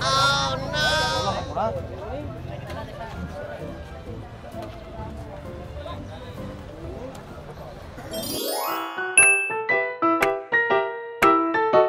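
An Anglo-Nubian goat lets out a couple of loud, wavering bleats up close amid farmyard noise and voices, then music begins near the end.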